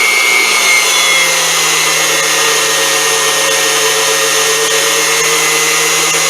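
A Unimat SL1000 mini lathe takes a cut in 954 aluminum bronze with a 10-degree tool, giving a loud, steady motor whine with a high tonal ring that holds unbroken throughout, with no talking.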